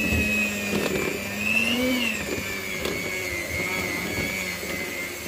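An electric beater whirring steadily through cake batter after flour is added, a close, continuous buzzing motor drone with slight wavering pitch and faint knocks against the bowl.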